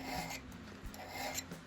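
A hand file rasps against an old adjustable wood drill bit in short, close scraping strokes, a soft gritty rubbing that repeats in a few uneven passes.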